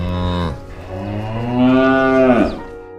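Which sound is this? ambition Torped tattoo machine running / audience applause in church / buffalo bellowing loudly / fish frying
buffalo bellowing loudly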